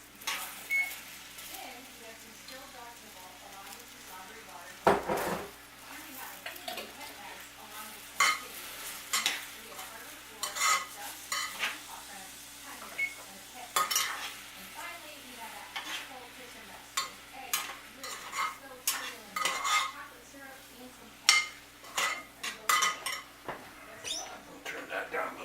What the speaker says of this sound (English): Then we'll take some sauce. Spread it around like so.